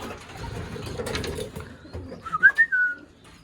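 Young racing pigeons give a short burst of soft warbling coos near the end, following a stretch of low rustling and handling noise close by.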